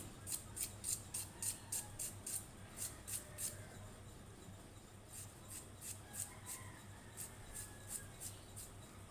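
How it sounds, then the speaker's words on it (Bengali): Onions being finely chopped with a knife for a dried-chilli jute-leaf fry: a quiet, steady run of crisp blade taps on a board in quick bursts, with a short pause midway and no talking. "প্রথমে আমি পেঁয়াজ কুচি করে নিচ্ছি"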